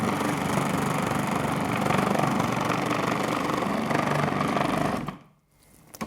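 A Breville Kitchen Wizz Pro food processor runs with a loud, steady motor whir while thinly slicing zucchini, then winds down abruptly near the end.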